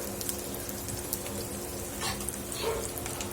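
A spoonful of asafoetida goes into hot oil where garlic and curry leaves sizzle to golden brown; a dense, steady crackling fry runs throughout with a few light stirring clinks, close and without speech.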